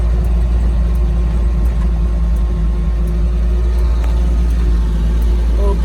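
A restored 1983 Jeep CJ7 engine runs at a steady idle, a deep continuous low rumble with a faint periodic ticking on top, close and unbroken throughout.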